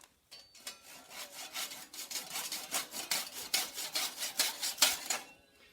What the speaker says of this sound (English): I still need to saw off some dowel